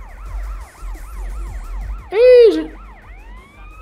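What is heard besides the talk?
police siren in GTA MTA roleplay video game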